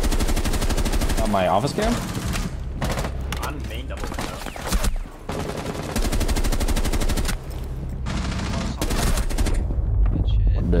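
Gunfire bursts ring out repeatedly in a Rainbow Six Siege round, with a shotgun among the weapons, sharp reports stacking over continuous game noise while players talk throughout.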